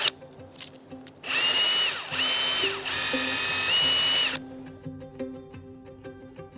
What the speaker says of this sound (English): when we come to drill the tree, we would drill slightly pointing upwards